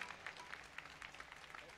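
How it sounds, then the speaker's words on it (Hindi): Faint, steady applause from a large audience at a spiritual gathering, a continuous wash of many hands clapping with scattered sharper claps, with voices mixed in. "जोर से ताली बजाइए रे"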